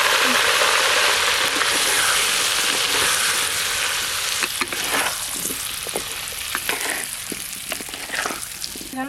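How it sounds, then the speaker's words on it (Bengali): Peeled potatoes sizzle in hot oil with a loud, steady frying hiss that later breaks into crackles and spatula scrapes, close by. "তেল গরম তো হয়ে গেছে কেটে ধুয়ে রাখা আলুগুলো বেশ ভালো করে লাল লাল করে ভেজে নেব"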